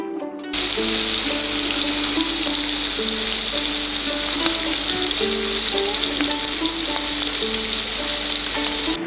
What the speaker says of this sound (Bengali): তেলটা গরম হলে চিংড়ি মাছগুলোকে ভেজে নিন।